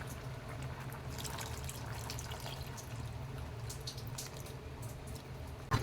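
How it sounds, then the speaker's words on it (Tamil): Tamarind water is poured into a pot of okra curry (vendakkai puli kuzhambu), giving a soft, steady liquid trickle that runs throughout and ends with a small clink. "இப்போ நம்ம புளியை ஊற்றிடலாங்க."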